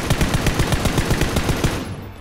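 Rapid automatic gunfire rattles in PUBG, a dense, evenly spaced burst of loud shots that runs for about two seconds and then stops.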